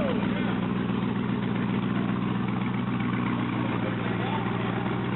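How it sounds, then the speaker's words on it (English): Cadillac CTS-V V8 engine running in a shop with its exhaust pipes removed, giving a loud, steady, raw drone that holds continuously throughout, with the drivetrain in gear and wheels spinning during a differential swap test. "The pipes are still off, which is why it sounds like an NASCAR"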